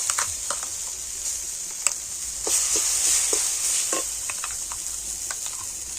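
Spices sizzling and frying in a pan while being stirred, ahead of adding pea paste, a steady close hiss with scattered light scrapes and ticks from the spoon.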